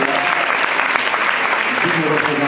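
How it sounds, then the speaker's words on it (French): Sustained audience applause at a school graduation ceremony, dense and steady throughout, with voices faintly mixed in beneath the clapping. "on peut applaudir ces"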